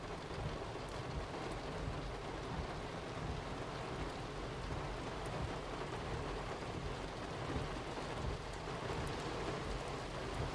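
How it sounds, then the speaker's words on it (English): Heavy rain pours steadily during a thunderstorm near Nahunta, Georgia, a dense, loud, unbroken roar of falling water with no voices. "A lot of rain out there."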